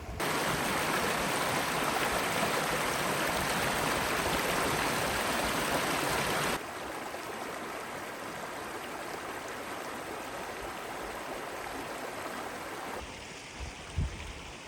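A stream at Salt Springs State Park rushes steadily toward its waterfalls, a loud continuous broadband roar that drops to a softer flow partway through, with no talking.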